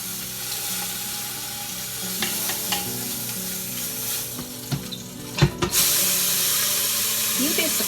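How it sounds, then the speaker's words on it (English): Pork sears in an Instant Pot with a steady, close sizzle and hiss, broken by a few sharp clinks and scrapes of stirring utensils. "You'd be surprised at how much searing the meat will help the flavor."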